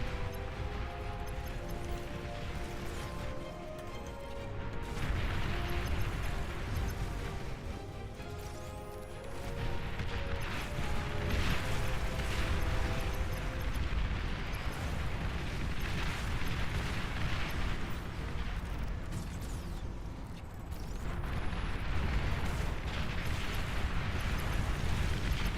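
Artillery tanks fire and shells explode in the real-time strategy game Beyond All Reason, a dense, continuous wash of booming blasts and rumbling impacts layered over one another throughout a massive battle, with no pauses.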